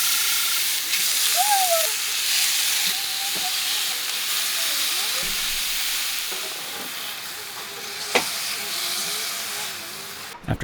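Homegrown beef strips and tenderloin sear in a cast iron skillet in an outdoor camp kitchen, giving a steady, close hiss and sizzle with a few faint clicks.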